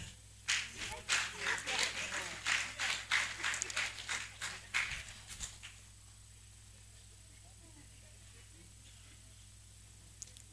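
A small scattered group claps in uneven bursts at a New Year school and conference in Ghana, the applause lasting about five seconds before dying into quiet room tone.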